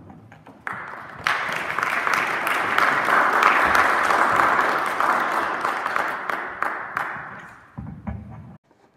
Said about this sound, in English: You haven't heard me talk, but you're applauding anyway.